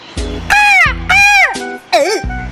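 A crow sound effect gives several loud, harsh caws in a row, each a drawn-out nasal call with short gaps between, close and clear with nothing else around it.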